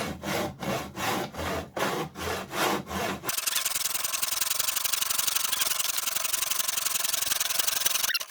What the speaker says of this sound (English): use the full length of the saw, but keep it within the miter box